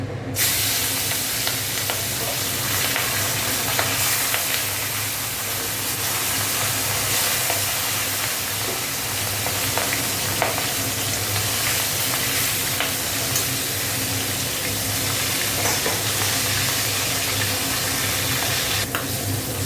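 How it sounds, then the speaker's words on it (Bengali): Small carp (chara pona) fish frying in hot oil, a loud, dense, continuous sizzle with faint clicks, close up and with no talk. "তেলটা গরম হয়, মাছগুলো ভেজে নিচ্ছি।"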